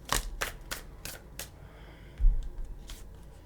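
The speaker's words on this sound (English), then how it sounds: "I need to start shuffling them in a different way so that they can get broken in" A new tarot deck being shuffled by hand, with crisp riffling card snaps in a quick run, a pause, then a softer second burst of shuffling, close and clear with no talk.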